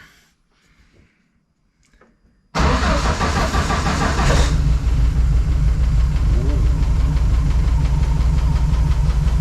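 A car engine cold-starts with an abrupt crank and catch, revving briefly before settling into a loud, steady idle with a slight knocking rumble, close up and without talk.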